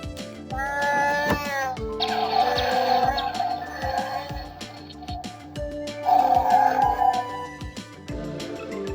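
An electronic Star Wars toy figure blares a short, loud burst of synthetic sounds, with a wailing, meow-like tone over a steady pulsing beat.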